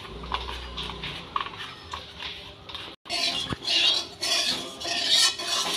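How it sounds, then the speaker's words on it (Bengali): Tangra fish with eggs being mixed by hand with turmeric and salt, giving soft wet squelching and scraping against a bowl, with a few small clinks and a louder stretch of handling near the end; no talk. "এবার ভালো করে লবণ হলুদটা দিয়ে মাছটাকে আমি মেখে নিচ্ছি।"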